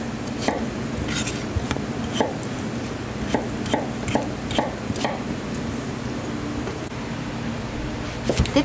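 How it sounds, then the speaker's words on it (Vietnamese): A knife chops potatoes into chunks on a cutting board, a steady run of sharp knocks repeating every half second or so, close and clear over a constant fan or air-conditioner hum in a home kitchen. "Khoai tây mình xắt lục cục như vậy nè."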